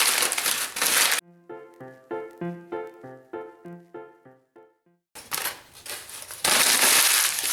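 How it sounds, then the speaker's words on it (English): Newspaper crumpled into a ball for a papier-mâché mannequin head: loud, close crinkling and crushing bursts at the start and end, with a short stretch of musical tones in between. "I need to screw up some newspaper about the size of that"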